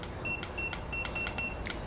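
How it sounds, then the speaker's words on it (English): A timer goes off with a series of short, evenly spaced high electronic beeps, several repeating quickly over a soft background hum, with no talking. "there's the timer"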